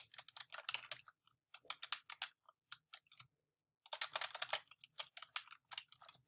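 Someone types a query into a website search box on a computer keyboard, with quick, close bursts of key clicks broken by short pauses, fairly quiet and with no talk.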